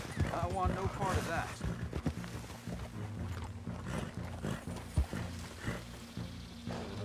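Horse hooves clip-clopping in Red Dead Redemption 2, a rhythmic run of hoof beats under frequent overlapping voices and game sounds, moderately close throughout.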